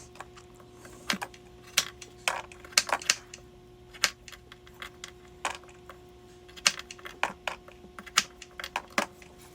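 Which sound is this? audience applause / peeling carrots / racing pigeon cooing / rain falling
peeling carrots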